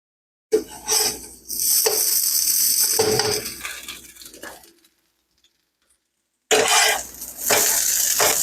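Shredded hash brown potatoes frying in a pan, with a loud sizzle, stirring and scraping clatters, a brief quiet gap, then the sizzling and pan noise returning up close.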